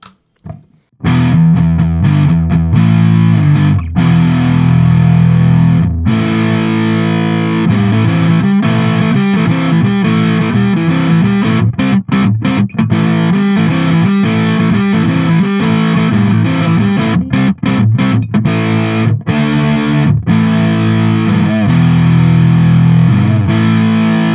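An IYV Les Paul electric guitar on its neck pickup, heavily distorted, plays dense chords and riffs loudly and continuously, with brief stops between phrases.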